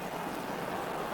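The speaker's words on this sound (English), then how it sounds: "in the pouring rain" Pouring rain at an outdoor hurling ground on the day of the 1992 All-Ireland hurling final, heard as an even, steady wash of hiss with no breaks.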